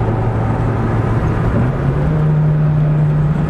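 A 1984 Toyota AE86 Sprinter GT Apex with a 4AGE quad throttle body engine drones steadily from inside the car, then steps up to a slightly higher pitch and holds there.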